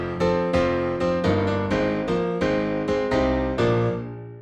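Bright, percussive sampled piano with its tone set to hard plays a steady series of sharply attacked chords, roughly one every half second, close and upfront, alone.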